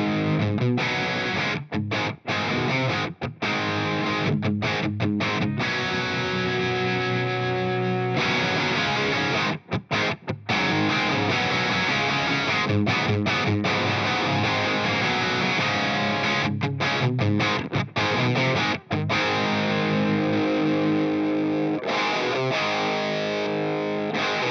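Electric guitar played through a Carvin V3 amp on channel 1 in thick mode, a Marshall JCM 800 style voicing, heard as loud, continuous distorted chords and riffs with brief gaps, alone without talk.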